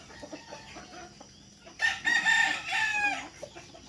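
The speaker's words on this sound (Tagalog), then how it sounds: "Oh, ang dami nilang manok." A rooster crows loudly and nearby among a flock of farm chickens, with soft clucking and background yard noise before and after the crow.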